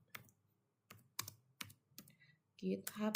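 Keystrokes on a computer keyboard as a git remote command is typed at a command prompt, a handful of separate taps spaced irregularly, then a quicker cluster of keys at the end, close and fairly quiet.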